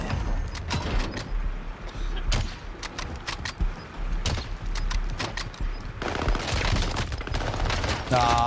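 Rapid bursts of automatic gunfire crackle through a Warzone match, dense volleys with brief gaps and a sharper flurry near the end, loud and close, with faint talk mixed in.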